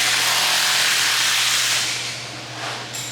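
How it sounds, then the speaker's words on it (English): A cutting torch used for brazing gives a loud, close, steady gas hiss and roar that eases off slightly toward the end, heard alone. "Of course, I'm brazing with a cutting torch."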